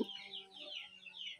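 A pelung hen and bangkok rooster crossbreed chicken gives a quiet run of clucks, small rising calls repeating about every half second.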